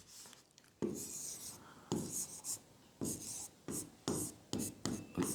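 A pen or pencil writes figures for a dozens arithmetic problem on paper, in close, scratchy bursts of strokes separated by short pauses, with no talking.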